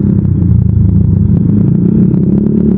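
A Yamaha Aerox V2 scooter fitted with a Redlak aftermarket exhaust pipe idles and rumbles up close, a loud, deep, steady throbbing with fast pulsing beats and no speech.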